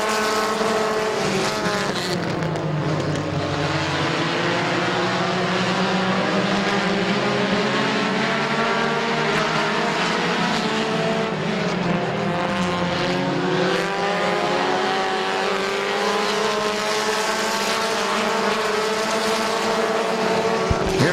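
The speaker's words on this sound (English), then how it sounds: "Chad Smith, all kinds of out of shape in that number 1 down the back straightaway" Compact race cars racing at Midvale Speedway, a dense continuous roar of several engines revving and shifting together, pitch rising and falling as the pack circles, loud and sustained the whole time.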